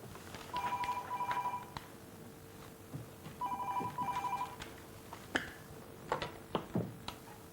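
A telephone ringing indoors in two clear bursts of a repeated electronic trill, followed by clicks and handling knocks, with no talking.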